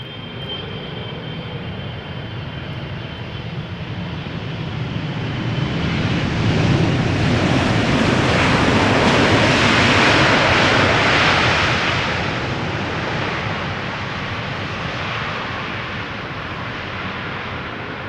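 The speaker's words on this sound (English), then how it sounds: "KLM flight 592, 777-300 arriving from Johannesburg," A KLM Boeing 777-300 landing on the Polderbaan runway at Schiphol, a broad jet engine roar that swells to a loud peak as it passes overhead and then slowly fades, with a steady wind-like rush throughout and no talk.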